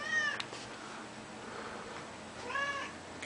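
A cat gives two drawn-out meows about two seconds apart, close and fairly clear over a low indoor hum.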